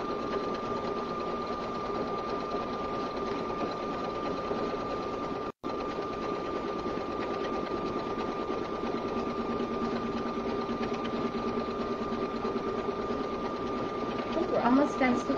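A sewing machine runs steadily, stitching a fully lined minky zipper bag with a continuous whirring hum, broken by one brief pause and a short burst of louder clatter near the end.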